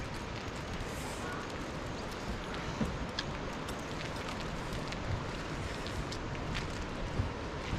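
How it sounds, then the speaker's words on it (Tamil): Steady broadband wind rushing through trees on Megamalai, Theni, in monsoon season, a continuous airy roar with faint crackles and rustles, fairly distant and unbroken. "கடைசியில் பார்த்தா அது மரத்தோட காற்று சத்தம்"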